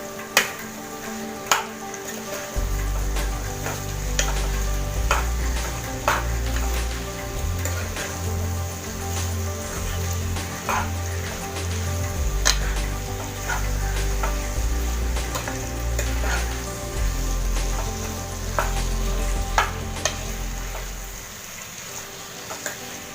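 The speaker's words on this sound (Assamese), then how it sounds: "এতিয়া হাই ফ্লেমত মই এই চিকেনখিনি ফ্ৰাই" Chicken pieces fry in a pan over a high flame for chicken masala with potato, a close, continuous crackling sizzle with sharp pops and low rumbling stirring throughout, no talking.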